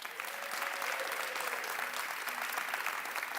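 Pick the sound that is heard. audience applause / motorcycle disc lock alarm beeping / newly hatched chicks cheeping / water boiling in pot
audience applause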